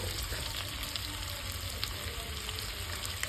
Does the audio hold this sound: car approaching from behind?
no